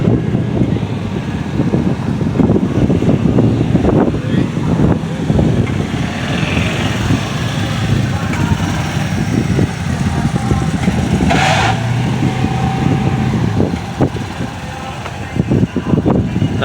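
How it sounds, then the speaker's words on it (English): An old Jeep pickup truck doing wheelies at a car show (Mid America Street Rod Nationals) revs its engine in repeated bursts over steady event noise. The engine sits moderately close and rough throughout. "Cool old Jeep pickup wheelies."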